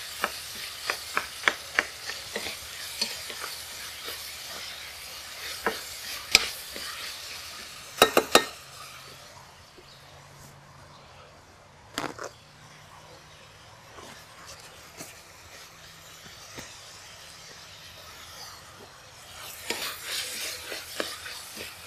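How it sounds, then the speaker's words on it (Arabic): Peppers and onions fry in a pan with a soft, continuous sizzle, broken by close clinks and scrapes of a utensil stirring against the pan, with occasional sharper clatters. "خلوهم يتقلوا"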